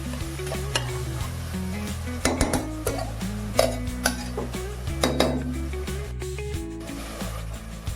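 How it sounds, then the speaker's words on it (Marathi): Spices and onion fry in oil in a pan, with a continuous sizzle while a utensil stirs and scrapes against the metal in repeated clanks and knocks. "त्याच्यानंतर आपल्याला थोडंसं हे मसाले आणि कांदा हे शिजवून घ्यायचं आहे, थोडंसं तेल सुटेपर्यंत त्याला।"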